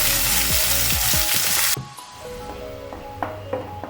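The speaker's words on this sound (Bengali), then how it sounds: "পেঁয়াজের পেস্টটা ব্রাউন করে ভাজা হয়ে গেছে" Paste of three large onions fries in a pan with garam masala, a loud dense sizzle that abruptly drops to a quieter crackle, with spoon scrapes and clicks following.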